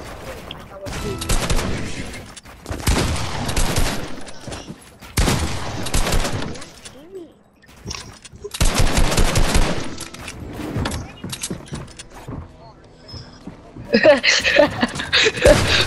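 Bursts of rapid gunfire in the Fortnite video game come in several separated volleys with short pauses between them, loud and close, and faint chuckling can be heard in places.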